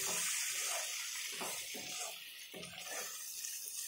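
Water pours steadily into a pot of vegetable sambar, a continuous splashing hiss with a few stronger gushes, close by and with no voices.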